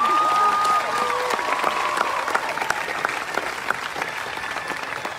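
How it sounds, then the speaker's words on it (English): Outdoor crowd at a Clemson University Black Lives Matter protest claps steadily in sustained applause, loud and continuous, with a whistle near the start and scattered cheers. "Dr. Rhonda Thomas, could you give a round of applause as well?"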